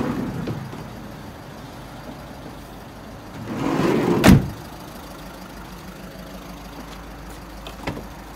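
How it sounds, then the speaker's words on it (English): A grey 12-plate Volkswagen Caddy van has its side door slid open, a brief rumbling slide ending in one sharp clunk, recorded close in a quiet outdoor setting with faint background hum. "Our opening side door."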